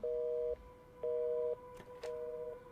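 Telephone busy tone after a call is hung up: three evenly spaced pulsed beeps, each about half a second long with equal gaps, clear and steady with faint background noise.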